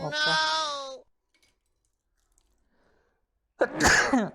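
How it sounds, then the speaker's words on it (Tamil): A person sneezes loudly during a sneezing challenge, two voiced, close sneezes separated by a long stretch of silence. "மூணாவது தும்மல் வந்துருச்சுப்பா எனக்கு."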